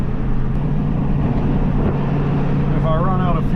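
A 1991 Ford F450 dump truck engine runs steadily at idle, a constant low rumbling drone close by, with a brief voice-like tone near the end.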